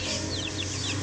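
A hen clucks close by in a rooftop pen in a city home, a short burst of throaty clucks over steady background noise, just after laying an egg.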